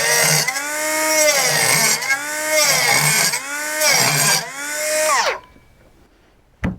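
A Hyper Tough cordless cutoff tool cuts through quarter-inch wood lattice in four to five whining, rising-and-falling bursts, then winds down into near silence before a final short clack.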